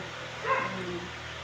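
A pet dog lets out a single short, faint bark indoors over a steady low background hum, with no voices.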